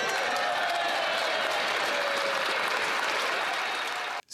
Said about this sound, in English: They're standing up, they're applauding.